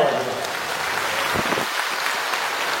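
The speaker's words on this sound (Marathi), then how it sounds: "त्यांनी एकदा 2 हात करून 10 सेकंद जोरदार टाळ्या वाजवल्या" An audience at a Home Minister stage event in Mhaismal applauds loudly, a dense, even roar of clapping that holds steady for the whole short stretch.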